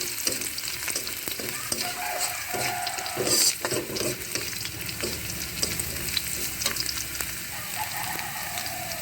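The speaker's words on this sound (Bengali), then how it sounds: "পেঁয়াজ রসুন কালো জিরা এগুলো ভালো করে ভেজে নিতে হবে।" Onion, garlic and black cumin fry in oil as the base for a lentil dal, giving a steady, close sizzle that runs throughout with no talking.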